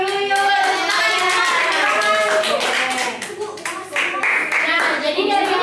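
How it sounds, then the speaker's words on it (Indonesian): Children in a classroom clap together in a lively, sustained round of applause, with young voices calling out over it, loud and close throughout. "Tepuk tangan dulu yuk."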